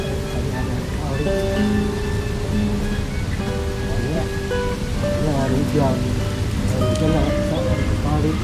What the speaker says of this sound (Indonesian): tapi ini tetap baru hujan bentar ya, deras hujan, tapi bentar nih sudah meluap ya